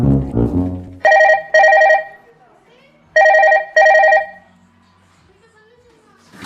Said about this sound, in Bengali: 1 মিনিট রাম বাইতে ফোন করে নই